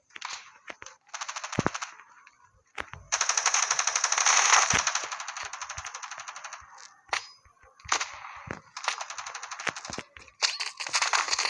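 Rapid automatic gunfire from the mobile shooter game Standoff 2 comes in loud bursts and sustained strings, broken by short gaps and single sharp cracks, with no talking.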